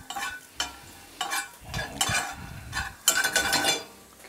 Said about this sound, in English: Oh, walnuts are burning. You just want them to lightly toast